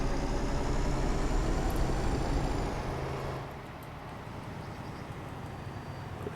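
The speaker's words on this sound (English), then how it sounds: "I hear the engine from the outside." Heavy truck engine in Euro Truck Simulator, heard from outside the cab while driving from France toward Luxembourg, a steady low rumble that eases down slightly partway through and carries on alone.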